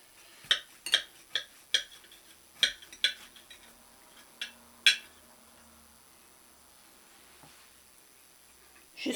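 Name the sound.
knife cutting a warm raisin cake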